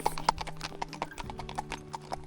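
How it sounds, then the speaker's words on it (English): Ventasso trekking horses walking in Italy, hooves clip-clopping in a quick, uneven rhythm at close range, with faint background noise and no talk. "You can see that they really are true trekking horses."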